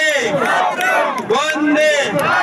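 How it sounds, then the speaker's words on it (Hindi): A crowd at an outdoor welcome gathering in rural Rajasthan shouts slogans in unison, loud, rising and falling group chant phrases in quick succession, with no clapping standing out. "एक बार जोरदार तालियां उनके लिए भी जयकारा लगाएंगे।"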